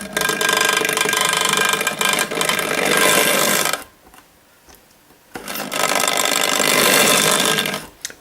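A noisy Hornby Dublo N2 LNER tank engine model locomotive running with a loud, rough mechanical whirring rattle that drops away briefly midway, then starts up again just as loudly.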